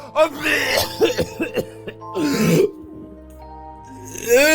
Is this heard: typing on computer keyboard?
no